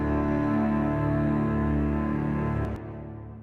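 Low piano layered with plug-in strings and a real cello sustains as a dense, dark chord, steady and full, before fading and cutting out near the end with no talk.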